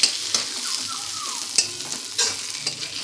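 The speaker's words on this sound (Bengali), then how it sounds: "এগুলো ভালো করে নাড়াচাড়া করে মিশিয়ে নেব।" Neem leaves and brinjal sizzle steadily in a hot pan while being stirred, with repeated scraping strokes of a spoon cutting through the constant frying hiss.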